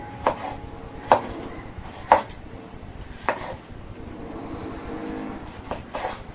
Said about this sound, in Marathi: चला कापते टोमॅटो.